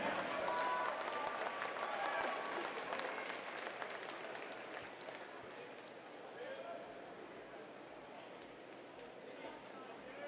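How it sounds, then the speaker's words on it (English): Arena applause and crowd noise at a swimming Grand Prix finals meet after a champion's winning swim, sustained and broad, gradually easing over ten seconds with a voice coming through. "how about a round of applause"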